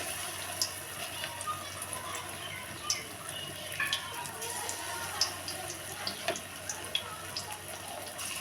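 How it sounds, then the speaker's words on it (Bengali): Soybean pakoras fry in hot oil over a medium flame, giving a steady close bubbling crackle scattered with sharper pops throughout. "এবার আমি এটাকে ভেজে নেব।"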